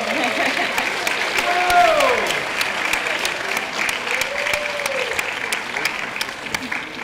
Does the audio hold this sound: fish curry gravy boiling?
no